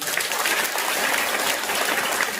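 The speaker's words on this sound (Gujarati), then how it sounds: "સૌપ્રથમ ટીચરની ભાવના માટે જોરદાર તાળીઓ." A school audience gives a magic show's teacher a dense, steady round of clapping from many hands, loud and continuous throughout with no voices standing out.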